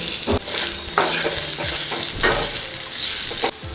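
Turmeric is stirred into ginger-garlic paste frying in a pan for a tomato beans curry, with a steady close sizzle broken by repeated scraping spoon strokes.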